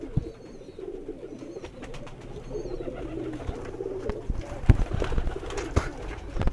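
Rooftop loft pigeons of many breeds coo softly and repeatedly nearby, a few thin high calls above, then louder shuffling and wing knocks toward the end.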